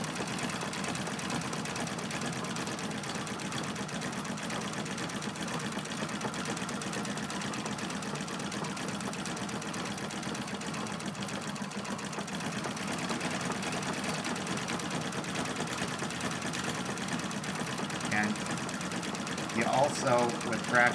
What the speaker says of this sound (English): how fast I'm moving my foot to make that treadle go